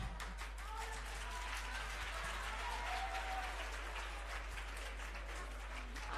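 Sustained audience applause from a university tour event crowd in Murcia, steady dense clapping that stays even throughout, heard at a moderate distance with no voices on top.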